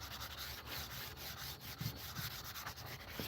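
Wood is sanded by hand with 80 grit sandpaper across a flat section, producing soft, quiet, rhythmic rubbing strokes that repeat back and forth without pause.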